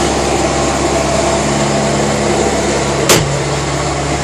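Pinzgauer military vehicle engine idling steadily after warming up, a constant loud mechanical drone with one brief clunk partway through.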